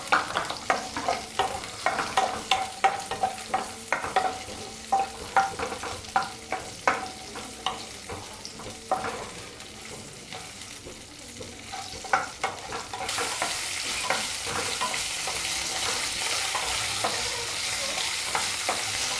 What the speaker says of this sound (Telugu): పచ్చిమిర్చి జీలకర్ర బాగా వేగినాయండి.